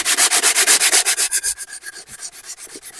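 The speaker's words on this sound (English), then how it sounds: "Sandpaper round where the key's been." Sandpaper rubs around the keyway on the steel flywheel of a 1921 Lister TM stationary engine, a close, loud run of quick rhythmic scrubbing strokes that slow and soften after about a second and a half.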